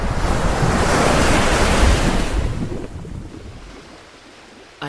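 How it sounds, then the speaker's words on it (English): Ocean waves surge in a loud, broad roar with wind noise, swelling strongly at first and then slowly receding to a softer wash. "And the ocean began to boil, as if it had turned to acid."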